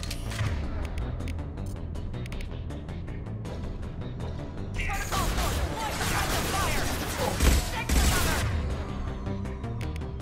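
Gunfire from the sci-fi shooter Mass Effect, a dense continuous battle din of shots and impacts with a sharper high-impact blast near the end, mixed with game sounds and some voice.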